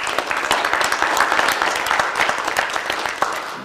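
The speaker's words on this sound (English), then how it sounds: "Let's give them a round of applause" Audience applause fills a city council meeting room, steady dense clapping from many hands sustained for a few seconds, fairly close and loud with no talking over it.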